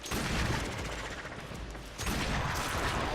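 Aklex pistols fired in the shooter game Warframe, their shots exploding on enemies: dense, continuous crackling bursts and booms with a brief dip mid-way, loud and close without talk.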